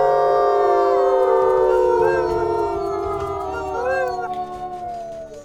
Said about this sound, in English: Yes, we do need to do some howling.